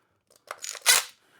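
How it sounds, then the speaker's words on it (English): A hose clamp being opened on a Fiskars reel mower: a short close metallic click and scrape, then a brief rasping snap, alone in quiet. "Let's open this one up so we can actually show you."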